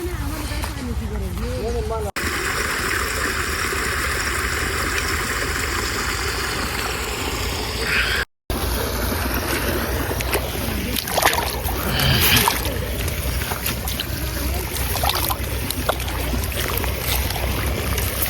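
Water gushes and splashes steadily as it is diverted into a muddy paddy field, a continuous rushing flow close to the microphone with sloshing and someone talking over it.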